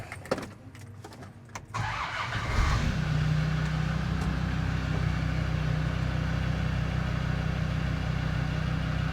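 A Land Rover Defender Td5 110 diesel fitted with a GTB450 turbo, heard from inside as the engine starts after some clicks and rustling, then settles into a steady, loud drone while pulling away on the road.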